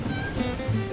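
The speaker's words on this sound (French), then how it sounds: "on termine la journée sous la pluie" Steady rain falling outdoors at the end of a day of wheelchair travel between Alsace and Burgundy, a continuous close patter with a soft wash of noise throughout.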